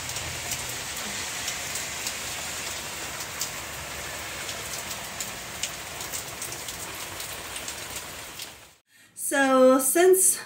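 Heavy rain pours down during a hurricane in a dense, steady hiss of drops on surfaces, then cuts off near the end as a voice begins talking.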